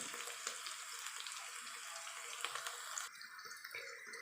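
Onions frying in a pan until brown, a continuous fine hissing sizzle with small pops, fairly faint and close, with no voices.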